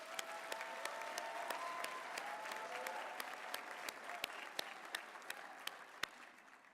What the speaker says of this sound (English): Could we please give the staff a round of applause?